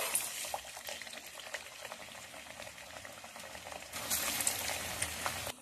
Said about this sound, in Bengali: তেল গরম হয়ে গেছে কড়াইয়ে। এখন আমি ভেজে নিচ্ছি।